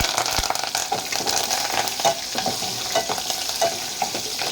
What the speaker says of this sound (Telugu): వీటన్నిటిని బాగా వేగనివ్వాలి.